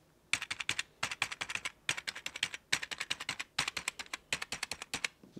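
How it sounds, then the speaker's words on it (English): Typing on a Marvo Scorpion K605 gaming keyboard with LED backlighting: rapid, crisp key clicks in bursts of several strokes, close and loud, with short pauses between runs and no voices. "obviously this is what the Marvo keyboard sounds like."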